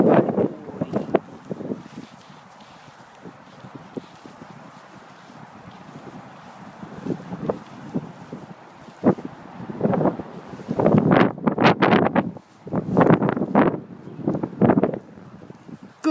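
Strong wind gusts outdoors during a dog tracking session, buffeting the microphone with rumbling bursts that grow louder and more frequent toward the end, alongside occasional rustling.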